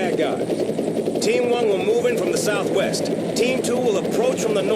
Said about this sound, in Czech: najednou jsem ve vrtulníku a nikam se chystáme